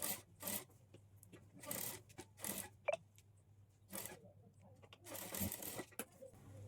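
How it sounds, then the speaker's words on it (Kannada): A sewing machine stitches a hemming strip onto a blouse in faint, short bursts of rapid whirring, separated by quiet pauses. "ಇಲ್ಲಿ ನಾವು ಎಮ್ಮಿಂಗ್ ಪಟ್ಟಿಯನ್ನು ಸ್ಟಿಚ್ ಮಾಡಿಕೊಂಡು ಆಯಿತು"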